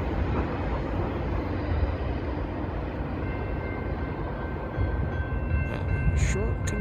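Southbound Norfolk Southern short container train led by two GE C44-9W locomotives with a GE ES44DC, a steady broadband rumble of rolling cars and engines throughout, with faint high squeals near the end.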